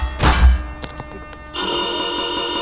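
A telephone rings in the Garry's Mod Metrostroi subway game, a loud sustained bright ring starting midway and continuing steadily to the end, after a brief burst of noise and faint clicks.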